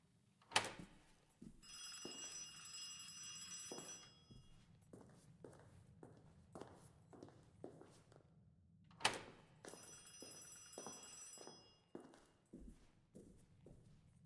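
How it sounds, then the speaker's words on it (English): An electronic telephone rings in two long bursts in the video game Ad Infinitum, separated by a string of soft, evenly spaced footsteps and thuds. "Is that a doorbell or is that the phone? I assume the phone."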